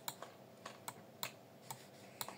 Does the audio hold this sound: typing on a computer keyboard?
yes